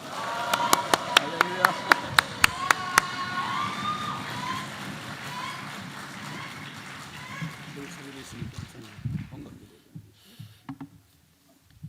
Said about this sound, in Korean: 뜨거운 함성과 박수와 발걸음으로